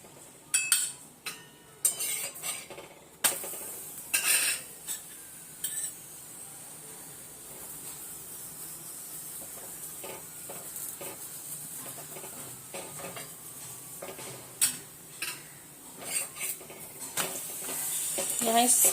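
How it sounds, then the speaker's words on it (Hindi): A stuffed bathua masala paratha roasts on a griddle with oil and is pressed down repeatedly, giving a soft continuous sizzle broken by sharp spatula scrapes and taps, with a voice talking throughout. "यहाँ इस तरीके से इसे अच्छे से हम दबा दबा के सेक लेंगे।"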